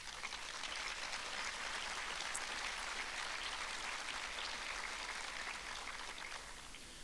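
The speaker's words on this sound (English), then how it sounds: "please rise so we can applaud y'all as Vetlanta" A crowd at a speaking event with General David Petraeus applauds the Vetlanta members as they rise, a steady, dense wash of many hands clapping at even loudness throughout, with no voices over it.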